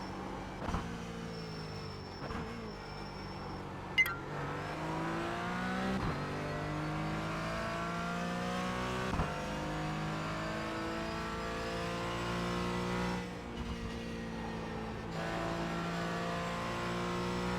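A race car in the iRacing sim brakes heavily and downshifts, its engine pitch stepping down with quick blips, then pulls away through a series of rising gear changes, loud and constant, with a thin high whine early on.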